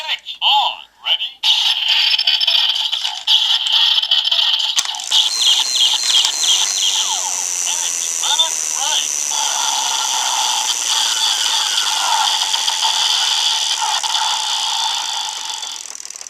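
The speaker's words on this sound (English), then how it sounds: "So that activates a special limit break sound for the elect switch." A Kamen Rider Meteor Driver DX transformation belt toy plays its electronic limit-break sound after a few opening clicks: bright, loud synthesized tones and chirpy, warbling effects that run continuously for over ten seconds and fade slightly at the end.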